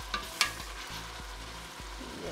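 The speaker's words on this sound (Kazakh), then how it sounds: "Және осы күйінше пияз сарғайғанша 5 минут қуырамыз." Onions fry in oil in a pan with a steady close sizzle, broken by a couple of sharp clinks and regular stirring scrapes.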